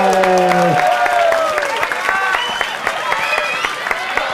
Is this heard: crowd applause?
yes